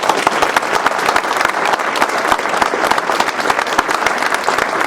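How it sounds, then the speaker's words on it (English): Loud, sustained applause from a crowd at a high school athletic Hall of Fame induction ceremony, dense overlapping claps held at an even level throughout. "One more round of applause for our 4 new inductees."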